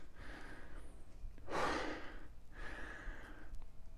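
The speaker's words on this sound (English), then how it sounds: "Starting to breathe hard." Heavy breathing during a strength workout for knee pain: three hard, breathy exhales in steady rhythm, the middle one strongest, close and fairly quiet with no talking.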